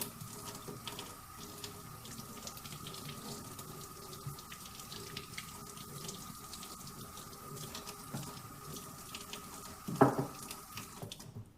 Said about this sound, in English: just rinse it off with some water and then let it air dry